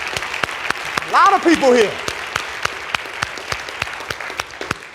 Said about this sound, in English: Y'all give them a round of applause, y'all, that's awesome.